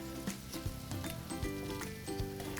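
Chicken pieces fry quietly in bacon grease in a pan as they are flipped, a soft sizzle broken by a few light taps and scrapes of turning.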